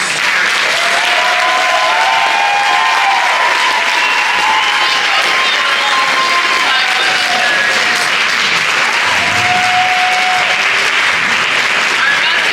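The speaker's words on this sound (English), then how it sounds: "Let's give another round of applause for their courage and sharing their story." Theater audience at a Listen To Your Mother storytelling show gives sustained, loud applause that stays full throughout, with some cheering and voices mixed into the clapping.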